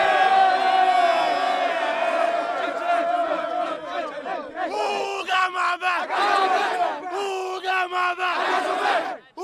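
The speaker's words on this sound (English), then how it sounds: "do we have any energy left for a victory cheer?" Fans at a West Park Panthers high school football game shout a loud victory chant in unison, with many voices yelling together in rising, rhythmic bursts and brief gaps between phrases near the end.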